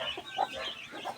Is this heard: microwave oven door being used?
no